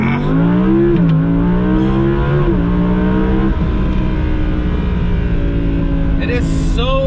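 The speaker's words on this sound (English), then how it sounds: "It is so freaking aggressive when it launches, and it just throws the gears in there." An Audi R8 V10 Plus supercar launches hard under launch control, its engine roaring and climbing through quick gear shifts, each change marked by a brief dip, loud and close from inside the cabin, with a voice heard under it.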